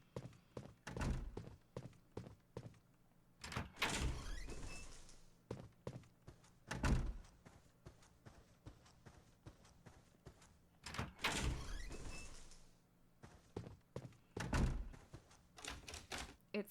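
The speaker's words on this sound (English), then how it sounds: "It's locked and will not open." A locked door in the survival horror game Clock Tower 3 is tried repeatedly, its handle rattling and the door thunking against the frame in several loud bursts, separated by quieter pauses.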